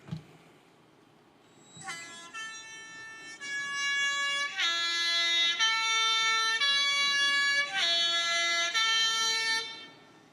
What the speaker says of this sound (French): tout le monde connaît ce klaxon au travers des Alpes suisses